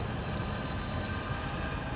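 An Aer Lingus jet arriving from Rome at Dublin Airport gives a steady, broad engine roar heard from a distance, constant for the whole moment with no talk.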